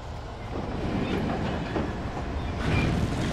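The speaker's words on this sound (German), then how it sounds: "Das ist ja geil mit den Zügen." Trains rumbling and clattering past in the video game Alan Wake, on a train graveyard level; a dense, continuous, close rolling roar that swells toward the end.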